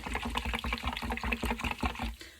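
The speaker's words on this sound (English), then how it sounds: "I think I'm actually going to add a little bit more milk." Milk pouring into a large baking dish for baked pasta, a close, bubbling liquid stream with rapid glugging pulses that tapers off near the end.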